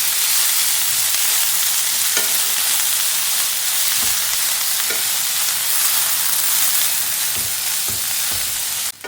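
Onions frying in a pan for a crab masala, a loud, dense, unbroken sizzle with occasional soft knocks of a spoon stirring them, heard up close and alone.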